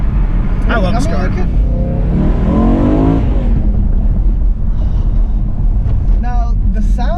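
A BMW E92 M3 with a manual gearbox and more stock exhaust drones steadily while driving, with wind noise and road rumble, as people talk inside the cabin over it.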